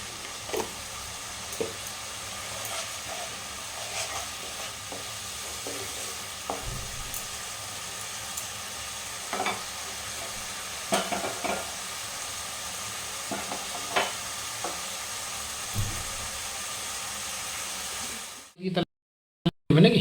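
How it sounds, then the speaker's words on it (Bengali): Spice paste fries in a pan for an egg dish, with a continuous soft sizzle and hiss broken by occasional utensil scrapes and taps, then an abrupt cutoff near the end. "এদিকে মশলাটা কষানো হচ্ছে"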